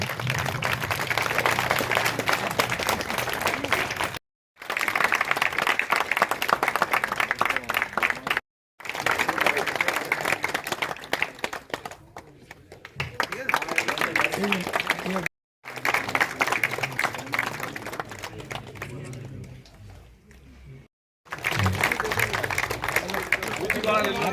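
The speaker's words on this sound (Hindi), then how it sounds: "तालियां आती रहे, तालियां" Crowd clapping at a BJP ward office inauguration in Jaisalmer, sustained and loud in several stretches broken by brief cuts, with voices talking through it.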